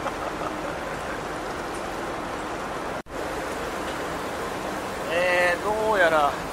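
Heavy downpour drums down during a Honda Monkey motorcycle ride near Izu and Suruga Bay, a dense, steady rush of rain and wind noise that briefly cuts out; a voice speaks over it near the end.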